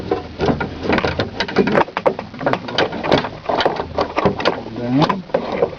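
Driver's door lock mechanism on a 1992 BMW 325i sedan being wiggled by hand, giving a steady run of close, loud clicks, rattles and metallic clunks in irregular rhythm.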